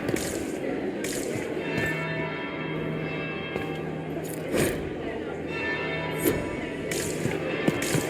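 Deep tolling bell from the Dragon Age Inquisition game at the Winter Palace, several slow strikes ringing out and decaying over a murmuring background, with talk between the chimes.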